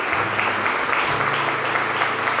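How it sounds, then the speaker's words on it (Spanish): Church congregation clapping together during a worship service, a steady even wash of hands filling the room for a couple of seconds without a break. "¿Puede usted dar un aplauso a Jesús? Un aplauso al Señor."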